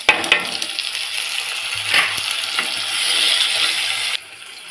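Onions and freshly added tomatoes sautéing in a pan for fish curry: a loud, close sizzle with frequent spatula scrapes and clinks against the pan, ending abruptly.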